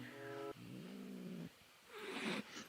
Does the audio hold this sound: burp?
no